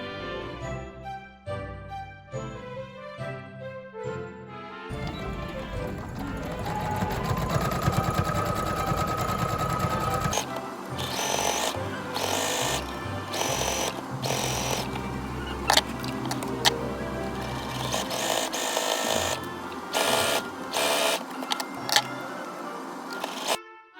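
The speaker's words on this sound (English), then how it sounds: "I just sewed down all the sides to attach them together." Sewing machine stitching the side seams of fabric and lining for a bow top, opening with clicks and handling noises, then long steady whirring runs of stitching with brief pauses and rattles, close.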